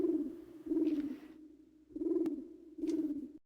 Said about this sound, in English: Grumpy owl somewhere.